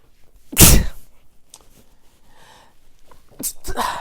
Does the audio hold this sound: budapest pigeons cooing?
no